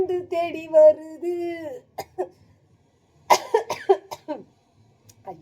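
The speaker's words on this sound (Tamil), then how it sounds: "இப்படி ஒரு லக்கு புக்குன்னு இருமல் வருது" A woman coughs in a few short, harsh bursts after singing a line, with throat-clearing and breathy pauses between the coughs, close to the microphone.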